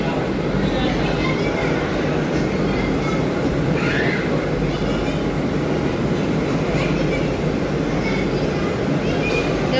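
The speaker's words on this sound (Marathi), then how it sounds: "टोटल 12 डब्याची लोकल आहे. ही गाडी आपल्या नंतर सुटणार." Steady rumble of a 12-car AC local train on Mumbai's Harbour Line (CSMT–Vashi service), a continuous loud drone of wheels and carriage noise lasting throughout, with faint indistinct voices mixed in.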